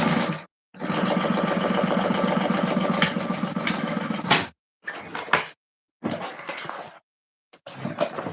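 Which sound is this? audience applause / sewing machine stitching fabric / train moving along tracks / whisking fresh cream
sewing machine stitching fabric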